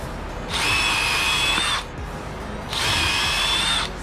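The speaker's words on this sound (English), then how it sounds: "We are going to pre-drill holes." A power drill whines while pre-drilling holes in a wooden boat trailer bunk, two bursts of about a second each, separated by a short pause, close by.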